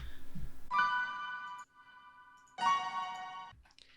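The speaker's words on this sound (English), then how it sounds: "And finally we have some piano here." Two sustained, bright piano chords ring out in an electronic track, each held for about a second with a short gap between them.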